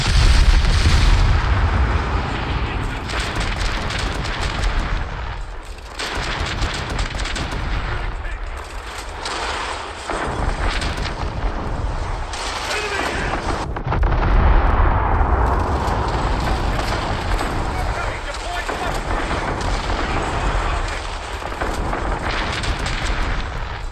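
Continuous heavy naval artillery fire in a video game, booming and rumbling for about twenty-four seconds, loud and dense with repeated deep thuds.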